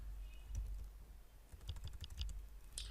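Very quiet keyboard typing of code, with soft irregular clicks of keystrokes that come in a short burst and then a few scattered taps, over low background hum and no speech.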